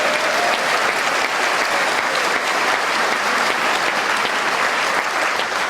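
An audience at a political rally in England gives sustained loud applause, dense continuous clapping with no break or audible speech.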